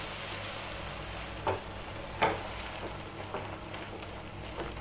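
A cabbage and egg omelette fries in oil with a soft, constant sizzle, broken by a couple of brief scraping taps from a spatula; quiet and close, no voices.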